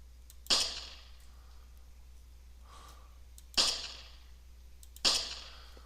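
Gunshots from a weapon with recoil in a video game under development, three sharp, loud cracks spaced a few seconds apart, each with a quick decaying tail, over faint background hum.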